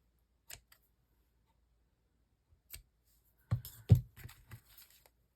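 A handful of small, crisp scissor snips trim thread ends, a couple of isolated cuts followed by a quick cluster of closer clips, with no talking.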